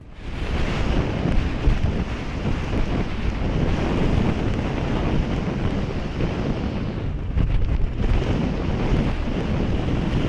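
Storm wind buffeting the microphone over crashing sea waves against a seawall on a coastal line, a loud continuous roar with surging swells and gusts, no voices.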